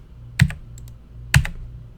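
Two sharp, separate key presses on a computer keyboard, each a loud, close click, as the delete key is hit during digital illustration work, in a quiet room with no talking.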